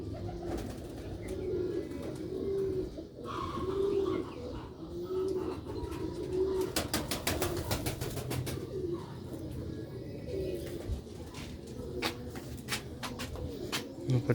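Sialkoti rooftop pigeons coo in repeated soft, low calls close by, with a burst of rapid wing flapping partway through and a faint voice in the background.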